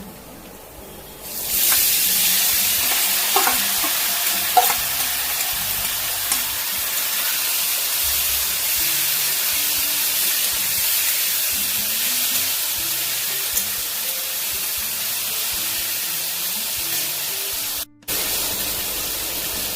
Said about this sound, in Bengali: ভালো করে মুসুর ডালটা ভেজে নিচ্ছি